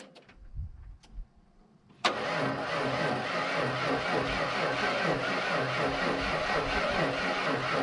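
A 1992 Ford F150 pickup truck cranks briefly and fires up, then its engine runs steadily and loudly close by after a few quieter clicks at the start.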